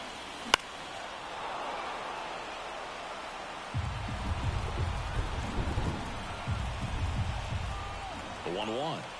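Heavy rain and rolling thunder in the baseball video game MLB 24: a steady wash of falling rain throughout, with deep, loud thunder rumbles building in two long rolls and a sharp crack near the start.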